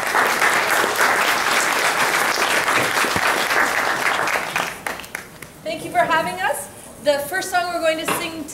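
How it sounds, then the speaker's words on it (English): Warm audience applause at a seniors' Christmas tea in Yellowknife, greeting grade 3 and 4 child singers; steady, full clapping for several seconds fades out, and then young voices take over. "Please give a warm round of applause for our young singers."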